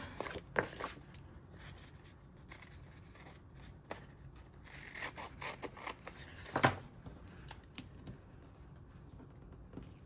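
Close, quiet snips and paper rustles as scissors cut around a sheet of Christmas planner stickers, with irregular light clicks and shuffling spread across the clip and no talk.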